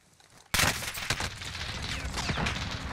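Heavy gunfire from the Warzone video game: after a brief quiet lead-in, a loud sudden burst opens into sustained rapid shots and booms that continue steadily to the end.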